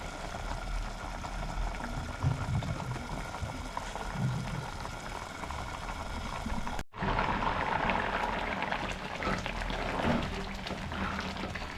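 Semiya kesari, a sweet vermicelli dish, bubbling and simmering in a pot, a steady low gurgling boil that continues throughout with a brief break partway through.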